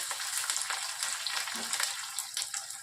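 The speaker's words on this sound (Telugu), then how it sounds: "బాగా ఫ్రై చేయాలండి." Mustard-type tempering seeds, curry leaves and four dried red chillies fry in oil for a methi chutney, a close, continuous crackling sizzle with small pops and stirring scrapes throughout.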